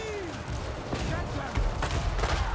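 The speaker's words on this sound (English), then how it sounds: "How about you shoot at this one up here then?" Battlefield gunfire from the Total War: Warhammer 3 strategy game, a dense crackle of distant musket and artillery shots layered over a continuous rumbling battle din, with a sustained low roar building toward the end.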